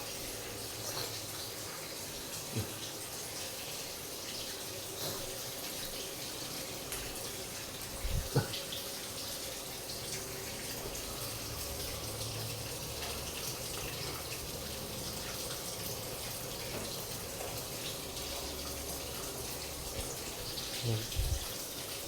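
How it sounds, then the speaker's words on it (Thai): Kitchen items soaking and being washed under running tap water, a continuous close rush of water with a few knocks and splashes, no talking. "เดี๋ยวเราจะเอาพวกนี้ ลงไปแช่น้ำล้างนะครับ ทั้งหมดนะครับ"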